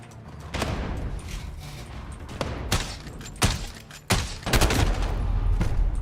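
Call of Duty: Modern Warfare (2019) gunfire, with loud separate volleys and bursts of shots spaced a second or so apart over constant background battle noise.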